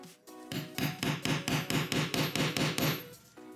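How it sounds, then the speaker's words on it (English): A hammer strikes an eyelet tool to set metal eyelets into fabric, about ten quick, evenly spaced taps in a steady rhythm, close and crisp. "use the eyelet tool and my hammer to"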